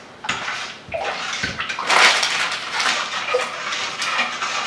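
Water and slime ingredients being stirred in a bowl, giving a close, wet sloshing and scraping that builds and continues steadily, with no talking.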